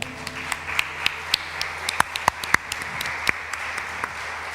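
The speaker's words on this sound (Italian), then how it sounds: "Possiamo fare un applauso al Signore." Congregation claps for the Lord during an Italian church worship service, scattered claps over a steady room hum, sparse and uneven rather than a full ovation.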